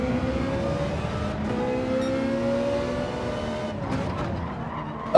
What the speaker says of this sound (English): Look at that Mazda understeering through there